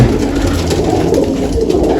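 Pigeons kept in a village loft coo, a dense overlapping low warbling that runs loud and continuous, close to the listener.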